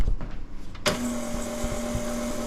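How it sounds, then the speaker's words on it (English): A vintage 1974 electric mixer switches on abruptly and whirs steadily through cake batter, a close, even motor hum after a quiet start. "This was my mom's mixer."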